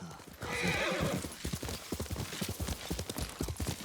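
A horse whinnies loudly at the start, then hooves clip-clop in a quick steady rhythm, close and clear, with no talking over them, in the video game Ghost of Tsushima.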